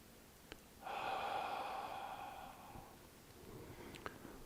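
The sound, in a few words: gentle ha exhale through the mouth, qigong breathing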